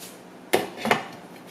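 Casserole dish being covered before going into a 400-degree oven, two quick clinks of a lid or cover against the dish, close and fairly soft.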